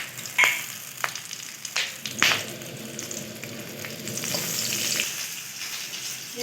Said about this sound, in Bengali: কাঁচা লঙ্কা আর কালো জিরে ফোড়ন দিয়ে দেবো।